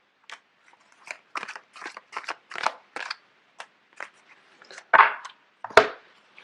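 Tarot cards shuffled by hand in a quiet room, giving a run of short, crisp riffling and slapping bursts in uneven rhythm, close and fairly clear.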